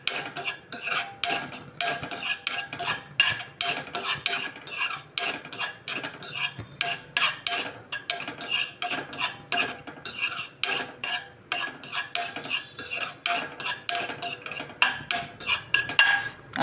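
A metal spoon scrapes and clinks steadily against a pan as chillies are roasted lightly for pickle, a rapid rhythmic stirring that continues without pause and without speech.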